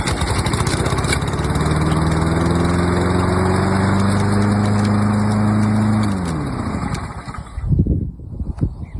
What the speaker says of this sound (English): pull the handle, and the engine will start